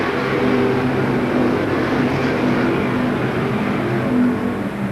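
Pro Stock race cars roar around the Seekonk Speedway oval during a 100-lap event, a steady loud blend of several engines droning together at racing speed.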